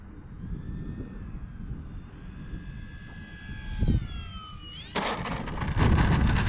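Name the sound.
Arrows Trekker RC plane flying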